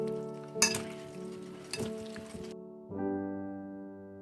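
Onions sizzle in a pan while a utensil scrapes and stirs, with a couple of clinks; the sizzle drops to a softer hiss near the end.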